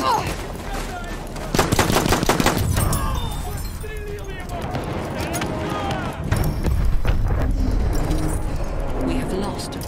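Bursts of rapid enemy gunfire crackle amid loud battle noise in Battlefield 1, with voices shouting over the chaotic, continuous din.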